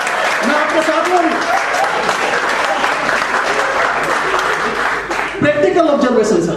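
Hindi comedy poetry show audience applauding loudly and steadily throughout, with a speaking voice over the clapping and a brief dip before the applause swells again.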